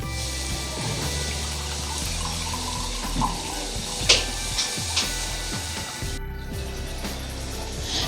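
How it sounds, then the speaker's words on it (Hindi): A mug of cold water is poured into Kashmiri pink tea on the stove, a close, continuous splash and gurgle with a few clinks of the pot near the end. "ये एक मग जो है मैं इसमें पानी का, ये ठंडा पानी मैं अब इसमें ऐड कर रही हूँ।"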